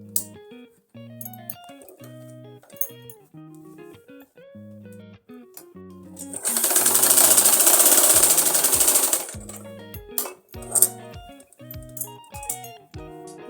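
Sewing machine stitching a double seam on an Afghani salwar, short bursts of rapid mechanical needle chatter at first, then one long loud continuous run in the middle, followed by more brief bursts, with no talk.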